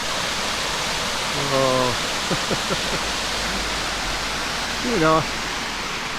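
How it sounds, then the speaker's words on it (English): A small babbling stream in the countryside near Lyme Regis and Uplyme in Dorset, with a steady broadband rush of running water throughout, while a voice speaks briefly twice over it. "I say, it really is quite an enchanting little babbling stream."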